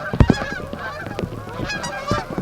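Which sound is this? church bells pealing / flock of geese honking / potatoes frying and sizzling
flock of geese honking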